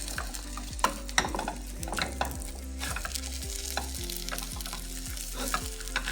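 An egg frying in a pan sizzles steadily, broken by a series of sharp clicks and scrapes from a utensil working around it, fairly close with no voices.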